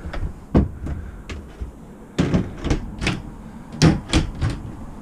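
Double wardrobe doors in a 2014 Coachman VIP 560 caravan are opened and shut, giving a series of close, hollow wooden thumps and clicks, some in quick pairs, spread irregularly with quiet gaps between.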